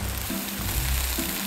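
Meat grilling at a campsite, burning and smoking, gives a steady close sizzle and crackle with low hum underneath, continuous and fairly quiet with no talk.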